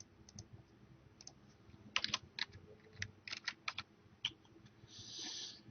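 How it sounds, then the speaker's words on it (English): Typing on a computer keyboard while entering details about T8 fluorescent bulbs, heard as scattered bursts of close key clicks with short pauses and a quick run of keystrokes near the end, no voices. "so we'll type that in."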